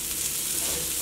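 Sliced onions sizzle steadily in hot oil in a pan while frying for a tawa chicken fry, a dense, even hiss that stays close and unbroken, with no talking.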